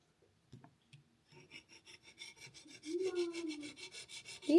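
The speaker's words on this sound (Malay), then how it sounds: "ini pengikir yang kita beli tadi" Metal scraper rasping burnt residue off an induction cooker's glass top: a few faint taps, then repeated close, gritty scraping strokes growing louder with a squeaky edge.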